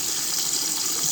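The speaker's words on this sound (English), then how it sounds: "I'm probably going to run the hose in the bucket too, just to get a bit more water flow" Water from a garden hose runs steadily into a bucket in a back-yard sluicing setup, a continuous close gushing splash with no talk.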